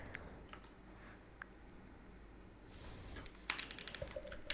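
Computer keyboard keys tapped in a few scattered, light clicks, then a denser burst of typing and a firmer press near the end, close and quiet in a still room.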